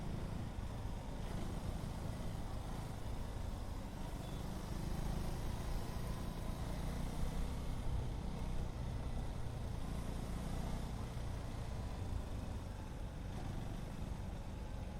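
KTM Duke 390 motorcycle crawling slowly in third gear, a continuous low engine drone blended with steady road and wind rumble, even in level throughout with no talk.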